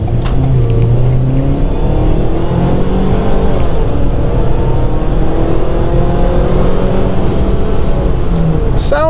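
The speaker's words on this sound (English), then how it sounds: "Sound is meh. It's a 4-cylinder, so it's not going to sound great." A 2022 Ford Maverick pickup's four-cylinder engine drones and revs steadily at close range, a continuous loud hum with rising and falling pitch and no one speaking.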